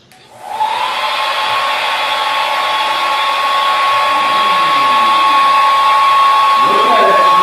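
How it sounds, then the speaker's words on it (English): A handheld hair dryer switches on and blows a steady, loud, whining stream of air used to float a ping pong ball, holding an even tone throughout with faint sounds in the background. "using just a hair dryer and a ping pong ball"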